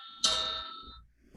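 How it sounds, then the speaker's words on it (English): A single bright electronic chime from an alarm rings once with a sharp onset at a meeting, then fades out over about a second, with faint room noise after it. "that's my alarm telling me it's time to quit"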